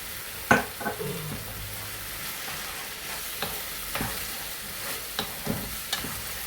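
Pasta sauce with fiery Dubai hot sauce fries in a pan, giving a faint steady sizzle broken by a few sharp stirring clacks and scrapes of a spoon against the pan.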